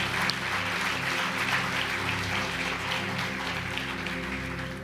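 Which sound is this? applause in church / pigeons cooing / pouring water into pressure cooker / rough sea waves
applause in church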